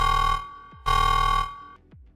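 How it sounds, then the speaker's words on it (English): A buzzing electronic alarm effect blares in two long, harsh bursts with a short gap between them, each ending in a downward slide, loud and close with no voices over it. "Sound the fuckboy alarm."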